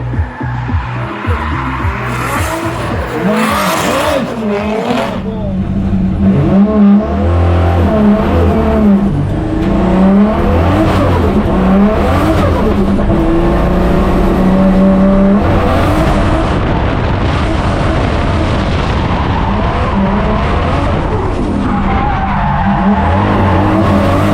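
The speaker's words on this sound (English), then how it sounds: "Really impressive little 6-cylinder here." A turbocharged Holden Commodore six-cylinder race car drifts with a loud, sustained engine roar that surges and falls with revving, layered with continuous tire squeal and skidding throughout, heard close with no talk.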